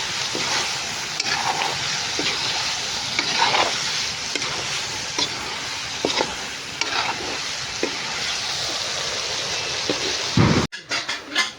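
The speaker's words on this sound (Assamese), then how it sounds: "এয়া আমি মাংস ভাজি আছোঁ।" Meat frying in a pan gives off a steady, dense sizzle that runs without a break, with occasional stirring scrapes on top. A brief burst of handling noise comes at the very end.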